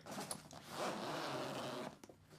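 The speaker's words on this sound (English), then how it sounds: "The zippers are solid." Close, fairly soft zip of a zipper being drawn open on a padded tank drum carry bag, one long rasping pull of about two seconds with small tugs at the start and end.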